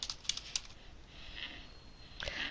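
Keys on a computer keyboard are tapped in a quick, faint run of clicks followed by a few more scattered keystrokes in a quiet room, with no voices.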